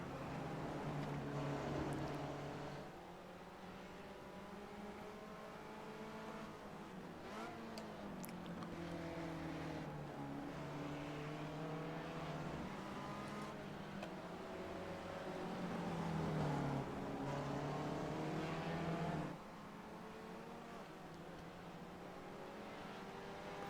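An SCCA Spec Ford race car's engine drones loudly from inside the car on track at Okayama, revving up through the gears and dropping between shifts, with steady road and wind noise beneath.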